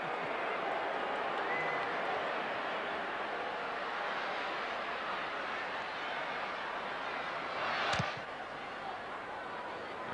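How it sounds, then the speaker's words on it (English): A rugby league crowd at the 1979 NSWRFL major semi-final between St George and Parramatta, a broad sustained roar of disapproval after a penalty, holding steady before a brief sharp thump and a slight drop in level. "The crowd go boo."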